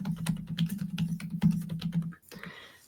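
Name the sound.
typing on a computer keyboard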